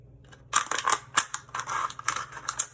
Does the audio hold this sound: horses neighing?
no